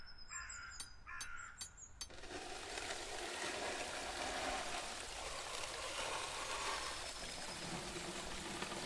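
A stream rushes past a water wheel at an off-grid camp, its steady broadband wash filling the clip after a few loud crow caws at the start.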